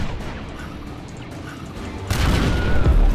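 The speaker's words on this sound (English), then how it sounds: "the blast wave just wasn't that close to me" An explosion booms in the Rogue Invader video game, a blast wave arriving as a sudden loud, rumbling surge that swells after a quieter stretch of game noise.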